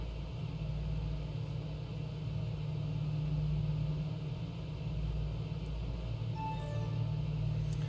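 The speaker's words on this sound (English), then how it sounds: "I can simply rewind and listen to those gorgeous engine sounds." Piston engines of a Douglas DC-6 in the PMDG flight simulator drone steadily with a low, throbbing rumble, quiet and continuous, with a faint high tone near the end.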